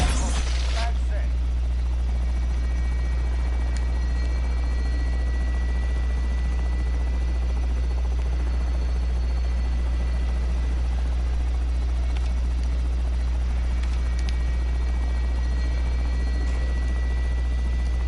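A helicopter in the video game Call of Duty Warzone thrums with a steady, loud rotor drone throughout, while radio-style voices speak over it.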